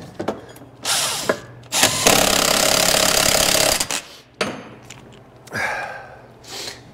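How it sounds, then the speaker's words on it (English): Impact wrench on the 24 mm secondary clutch nut of a Bennche 500 UTV, firing in several loud, close bursts of varying length, the longest about two seconds, with short pauses and workshop clatter between. "I'm just gonna hit that with my impact and hold it in place"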